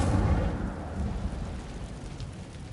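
Incendio fire spell cast in the Hogwarts Legacy video game, a rushing, crackling burst of flame that is loud at first and then fades, with no talk.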